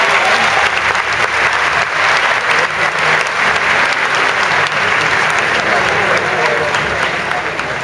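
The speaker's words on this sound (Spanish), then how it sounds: "Pido un fuerte aplauso." A loud, sustained burst of audience applause fills a hall at a film festival award ceremony in Mar del Plata, dense clapping with crowd noise continuing evenly throughout.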